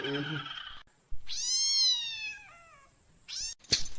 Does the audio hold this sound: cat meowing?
yes